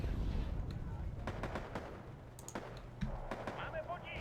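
Units exploding in Wargame: AirLand Battle, a scatter of distant booms and sharp pops over a low rumbling battle bed, fairly faint.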